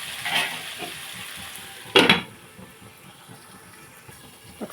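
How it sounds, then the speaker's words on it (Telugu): Onions fry with salt in a pan for a pumpkin curry, a soft steady sizzle with a sharp burst of crackle partway through and faint stirring scrapes, quiet and close, with no talking. "సాల్ట్ వేసాం కలుపుకుని ఒక ఐదు నిమిషాలు ఉల్లిపాయ బాగా మగ్గిన దాకా"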